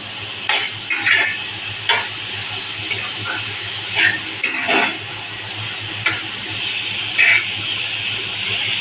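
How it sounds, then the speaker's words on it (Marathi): Vegetables with corn being sautéed in a pan for mixed millet tikki, a soft steady sizzle under intermittent scrapes and clinks of a spoon stirring against the pan, close and moderately loud. "त्याचा कच्चेपणा घालवणं हा उद्देश आहे. थोडंसं परतून घेणार."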